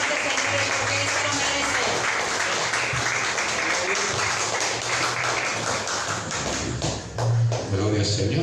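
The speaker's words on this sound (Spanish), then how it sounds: "Denle un fuerte aplauso al Rey de Reyes" A church congregation applauds loudly in sustained, dense clapping, with voices and cheering mixed in throughout.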